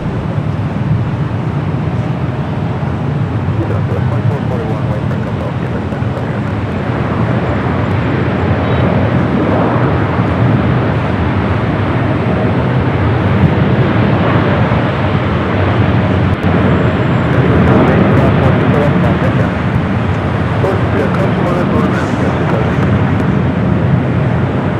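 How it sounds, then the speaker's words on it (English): A China Southern Cargo Boeing 777 arriving from Anchorage touches down on runway 25 Left at LAX, its engines a loud, steady roar sustained for the whole stretch, with no talk over it. "China Southern Cargo 777. Flight coming in from Anchorage. Touching down at 25 at left."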